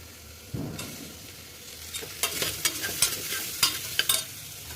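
Potatoes drop into a pan for a masala rice dish and start a steady sizzle, followed by a string of sharp spoon scrapes and stirring clatters close by, with no talk.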